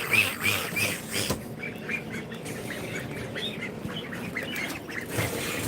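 Baby ducklings peeping and quacking in a brooder crowded with newly hatched chicks, a steady overlapping chorus of small high calls that carries on without pause.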